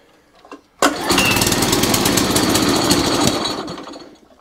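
An Atco cylinder lawn mower engine with a hunting and surging fault, started with choke: a short pull, then the petrol engine catches and runs loudly and steadily before easing off near the end.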